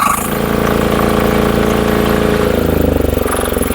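A VIS T-2500 four-wheel weeder with a 9HP diesel engine runs loud and close in a steady, rhythmic idle chug that stays even throughout.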